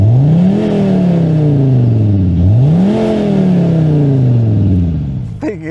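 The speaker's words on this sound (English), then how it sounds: "you get a valve opening in the exhaust and some sounds played through the car's speakers to mimic what appears to be a V8." Skoda Kodiaq VRS (2020) engine being revved twice, rising and falling in pitch, with an opened exhaust valve and a synthetic V8 tone from the cabin speakers layered over the diesel; loud and close, ending in a brief clatter.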